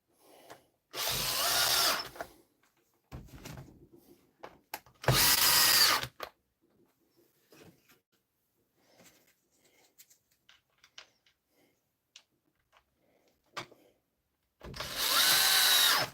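A handheld power drill, DeWalt or Makita, runs in loud bursts during a workshop tool repair, with three separate whirring runs separated by quiet gaps and small handling clicks.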